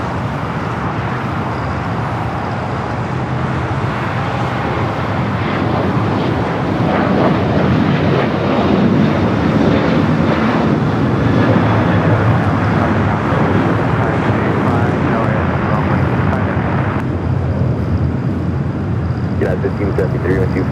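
A TAP airliner taxiing at LAX airport gives a steady, broad jet engine roar at a distance, with some wind noise and a voice talking over it.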